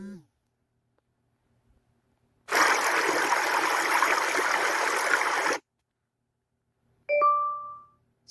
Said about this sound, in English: There are 3 seconds of the water sound effect.